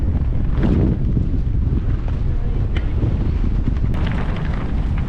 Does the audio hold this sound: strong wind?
yes